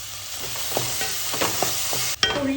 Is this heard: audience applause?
no